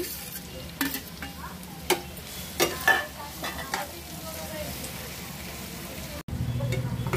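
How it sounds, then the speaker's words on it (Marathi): Finely chopped onions, two large ones, sizzle and crackle in a hot pan with occasional stirring scrapes, a steady close fry that surges louder near the end as more goes in. "बारीक चिरलेला कांदा त्यात टाकून घेऊयात।"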